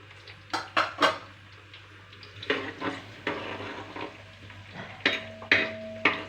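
Garlic frying in a pan, with clinks and scrapes of a utensil stirring against the pan in short bursts over a steady low hum; a faint sizzle sits beneath the stirring.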